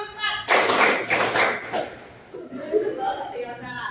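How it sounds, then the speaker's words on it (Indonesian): Classroom students clapping in counted patterns during a lesson, with several bursts of group claps in quick rhythmic sets, followed by softer clapping and voices talking over it. "Kita coba dari tepuk 1 dulu. Tepuk 2, tepuk 3, tepuk 4."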